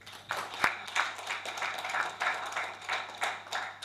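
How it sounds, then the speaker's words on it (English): An audience at a business conference gives a quiet, rhythmic round of applause, the claps sounding faint and somewhat distant for a few seconds. "Another round of applause for him, please."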